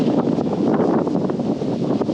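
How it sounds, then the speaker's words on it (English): Wind gusts outdoors at the base of the mountains near Mount St. Helens in the Gifford Pinchot National Forest, heard as a loud, continuous buffeting roar against the microphone with no speech. "the wind is really whipping"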